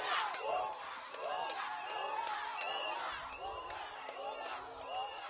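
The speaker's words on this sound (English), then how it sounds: "in a couple of minutes, just around, they're chanting unga" A charged crowd at a protest chanting and shouting together in a steady repeating rhythm, fairly distant and continuous, with a voice talking over it.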